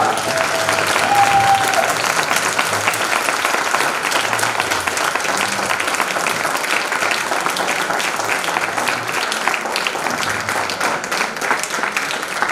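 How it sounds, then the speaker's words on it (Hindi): An audience at a one-day leadership program in Rampur gives sustained applause for an international trainer and motivator, a thick, continuous roar of clapping with a faint tone early on and no speech over it. "जबरदस्त तालियां"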